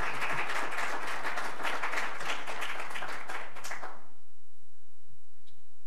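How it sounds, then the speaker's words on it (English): An audience at a chamber of commerce candidates forum gives a round of applause, dense clapping that holds steady for about four seconds and then stops abruptly into near silence. "give him a round of applause"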